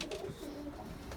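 Fantail pigeons cooing inside a loft, low soft burbling coos overlapping from several birds, quiet and close with a faint airy room background.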